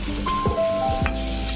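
Ginger paste hits onions frying in a pan and sizzles steadily up close, broken by a few soft stirring scrapes and light clinks from the utensil.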